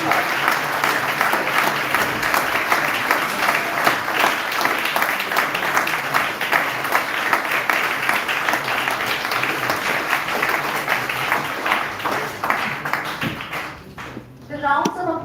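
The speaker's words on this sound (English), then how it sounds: "The rounds of applause should not stop." An audience at a competition applauds a finalist: dense, sustained clapping that holds steady for about fourteen seconds and then thins out briefly near the end.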